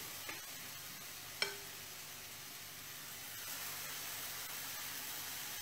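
Pancake batter made with apple, or banana and coconut, cooks on a hot griddle with a faint, steady sizzle and hiss. One small clink occurs early, and no one talks.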